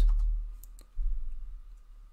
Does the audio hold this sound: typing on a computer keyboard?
yes